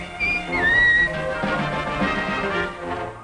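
A jaunty melodic whistle from a 1960s Swedish Eurovision song, loud and bright, sliding between sustained notes over a full instrumental backing that continues after the whistled phrase.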